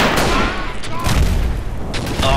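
First World War battle gunfire in the shooter Verdun: loud rifle shots and distant booms crack out in quick irregular bursts over a short span, with some voice mixed in.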